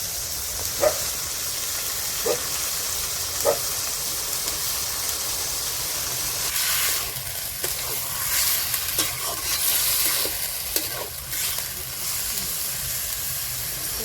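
Chicken mince sizzles steadily in a hot pan, with a constant frying hiss broken by several sharp scraping stirs of a spatula, close and moderately loud, with no talking.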